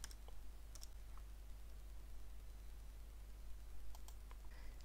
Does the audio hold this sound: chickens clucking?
no